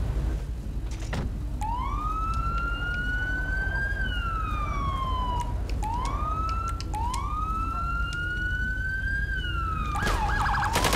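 Police car siren in a video game, its wail sweeping up and down through several long cycles, loud and continuous with no talk over it.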